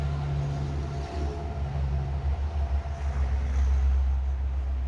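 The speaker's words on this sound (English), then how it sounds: "There's some noisy trucks going by." Heavy vehicles rumble past on a nearby road, a steady low roar with engine drone that swells and fades over a few seconds.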